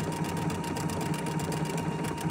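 Husqvarna Viking sewing machine stitching with a 3 hole yarn foot, a fast, even mechanical whir with a steady needle rhythm, close by and uninterrupted.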